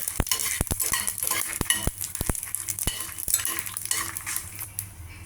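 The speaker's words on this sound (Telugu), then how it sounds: "1 స్పూన్ ఆవాలు వేయించుకోవాలి" Mustard seeds, fenugreek seeds and dried red chillies fry in oil for a tempering while a spoon scrapes and clinks against the pan in irregular sharp taps over a soft sizzle.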